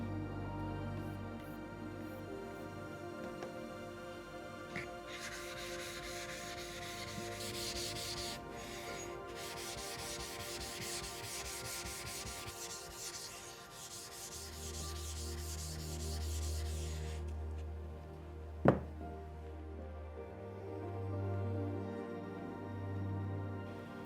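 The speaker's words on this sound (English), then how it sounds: "then use a diamond flattening plate until all the lines are gone" A sharpening stone is flattened by rubbing a diamond flattening plate across it during woodworking prep. It makes a steady, gritty scraping of back-and-forth strokes, close and moderately loud, with one sharp knock near the end.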